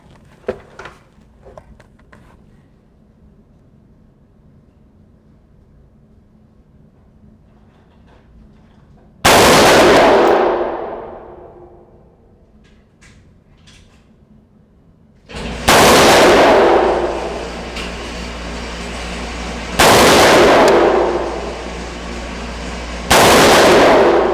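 A Colt Commando AR-15 clone rifle fires loud sharp shots at an outdoor range, with one isolated report followed by several more bursts, each ringing out and decaying after quiet handling noises.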